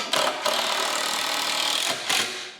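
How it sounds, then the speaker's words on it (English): A power drill whines in short bursts as it drives 3-inch screws into wood while a pig feeder box is built from an IBC tote. Brief pauses separate the close, buzzing runs. "I'm gonna drive some 3-inch screws in"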